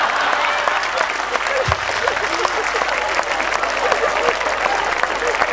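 Sustained, dense applause from a seated audience at a Hindi kavi sammelan poetry gathering, steady and loud for the whole stretch with a brief thump partway through.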